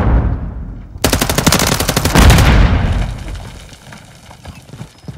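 Rapid automatic gunfire in the Call of Duty: Modern Warfare III video game, a loud, dense burst of closely spaced shots lasting about two seconds, then fading into lingering battle noise and distant rumble.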